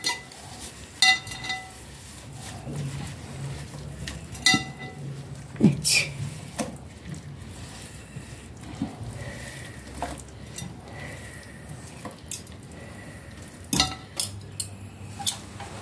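Two forks toss dried phyllo sheets in a bowl for a Greek orange pie, giving soft rustles and scattered metallic clinks against the dish over a quiet kitchen background.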